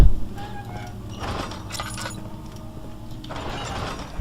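A machine rumbling somewhere below in the game Amnesia: The Dark Descent, a low, rolling mechanical drone with grinding, clanking metallic textures that swells and fades over a few seconds, heard alone without talk.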